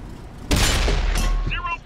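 A tank shell bounces off armor in the World of Tanks console game: a sharp loud metallic crack and boom, followed by a ringing ricochet tail and a fainter second clank, with a voice talking underneath.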